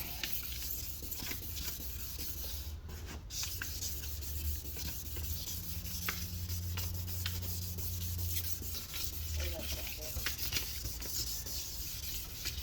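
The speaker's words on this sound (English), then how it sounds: "when you're done with sanding the headlight here" A car headlight lens is hand-sanded during restoration, producing a steady close scratchy rubbing that runs continuously with back-and-forth strokes and no talking.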